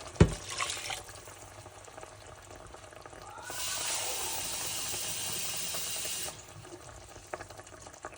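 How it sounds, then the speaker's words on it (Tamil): Water poured into a pot of Indian-style crab soup, a steady hissing splash lasting a few seconds in the middle, fairly close, with quieter kitchen sounds before and after. "தண்ணி கொஞ்சம் கூட விடணும்"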